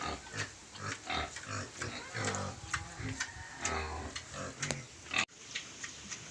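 A pregnant mother pig on a farm grunts and snuffles in short repeated bursts close by, with clicking and shuffling sounds and a voice speaking briefly.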